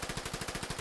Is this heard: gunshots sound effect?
yes